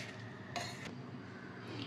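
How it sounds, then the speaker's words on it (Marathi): Poha, for a sweetcorn poha breakfast, is stirred into a hot tempering in a pan: quiet, continuous scraping and shuffling of a spoon against the metal, with one brief louder scrape partway through. "आता आपण छानपैकी या फोडणीत सगळे पोहे मिक्स करून घेऊया।"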